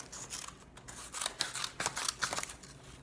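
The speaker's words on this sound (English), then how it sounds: "I'm just going to cut off these little extras." Scissors snip paper while trimming excess from a handmade glued paper bag: a run of sharp, crisp cuts in an uneven rhythm, close and fairly quiet, with no voices.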